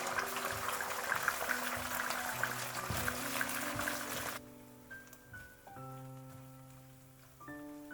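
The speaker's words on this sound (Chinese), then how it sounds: "油热之后再将鸡蛋液倒进来，开小火慢慢的炒" Beaten egg sizzling and crackling in hot oil in a wok over low heat, a steady, dense hiss close up that cuts off about halfway, followed by quiet background music tones.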